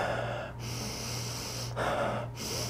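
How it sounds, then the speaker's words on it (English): Camphor drawn in through the nose in two or three sharp, close sniffs, each a breathy rush with brief pauses between. "what I like to do is pretty much just inhale this a couple times"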